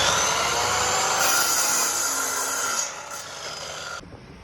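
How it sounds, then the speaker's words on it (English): Cedar beams are cut on a miter saw, a steady, loud rasping whine of the blade through the wood that fades off near the end, heard alone up close. "So let's get to the miter saw."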